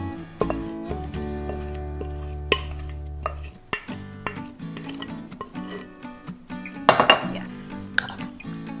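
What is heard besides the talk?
mixing pork with adobo seasoning in a bowl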